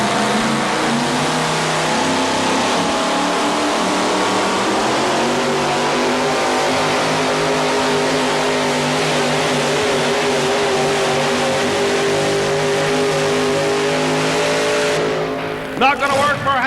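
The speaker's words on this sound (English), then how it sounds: "Houser, North Carolina, getting ready to take a shot with a Super Rat Chevrolet." A Super Rat Chevrolet drag racing car launches hard down the track, a loud continuous high-revving engine roar that holds steady for many seconds before cutting off near the end.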